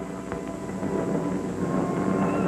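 Distant bomber engines drone low and steadily, rising slightly as the planes approach an airfield.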